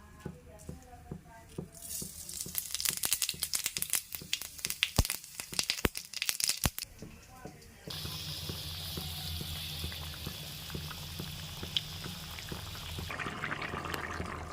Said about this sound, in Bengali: তেলটা গরম হয়ে গেছে এবার গোটা জিরে ফোড়নে দিয়ে দেবো